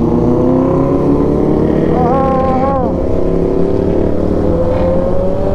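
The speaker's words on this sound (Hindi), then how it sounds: "टेन आर और one thousand are are super bikes" Superbikes, a 10R and a 1000RR, pass on a road, a loud sustained engine roar with rising and falling tones heard from a moving motorcycle amid heavy wind noise.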